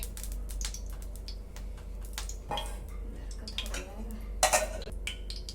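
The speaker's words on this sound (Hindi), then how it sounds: "सभी चपली तैयार हो जाने के बाद अब एक पैन में थोड़ा ऑयल डालकर गरम कर लेंगे" A pan clinks and scrapes in a home kitchen as oil heats for frying chapli kababs, with light metallic knocks and taps under steady background hum while someone talks.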